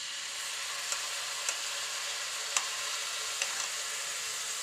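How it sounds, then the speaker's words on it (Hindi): Whisked yogurt hits a hot pan over low heat while cooking green chillies, producing a steady broad sizzle with a few faint spoon taps against the pan, close and without talk. "अब मैं इसमें डाल दूँगी ये दही, जो कि मैंने 100 ग्राम लिया और इसको फेंट लिया है"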